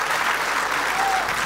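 A studio audience at a women's club show bursts into loud, sustained applause, a dense, steady wash of many hands clapping together with no pause and no voices over it.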